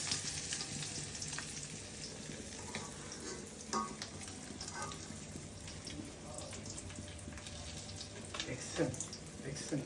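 Sarputi and koi fish from the Meghna river frying in oil, a steady broad sizzle running throughout with scattered clinks and pops, moderately faint and continuous.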